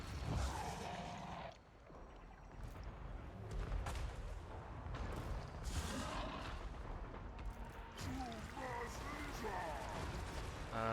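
Video-game explosions detonating an area, heavy booms and blasts rolling on through most of the stretch alongside busy battle effects, loud and dense, with a voice talking over parts of it.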